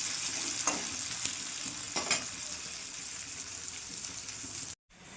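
Chopped onion with a little salt fries in a pan for a Bengali ridge gourd and small shrimp dish, a continuous close sizzle with occasional stirring scrapes and no speech, cutting off briefly near the end.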